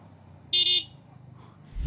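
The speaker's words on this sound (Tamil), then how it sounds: "எனக்கு அந்த ஹார்ன் பழகணும் போல்." Horn of a Yamaha XSR 155 motorcycle gives one short, loud, bright beep of about a third of a second, sounding alone over a quiet low rumble.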